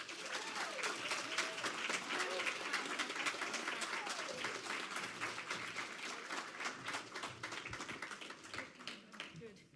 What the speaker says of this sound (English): Can we do one more round of applause for Melissa and Tracy in particular?